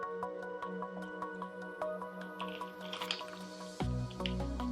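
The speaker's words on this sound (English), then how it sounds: "Gonna have some water." Water pours into a vessel in a series of bright trickling drips and sloshes, followed by a louder swallow or gulp near the end, close and alone with no talk.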